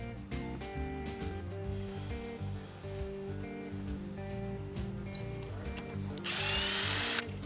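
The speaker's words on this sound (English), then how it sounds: "I got about 5 or so that didn't come out so easily, so we'll drill those out." A power drill bores out stuck screws on an abandoned airplane, a steady close whine with shifting motor pitch that rises into a sharper, louder grind near the end.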